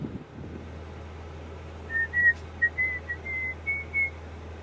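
A person on a narrowboat whistling a short melodic tune straight into a clip-on microphone, a series of clear close pitched notes in quick phrases over a low steady engine hum and faint wind noise.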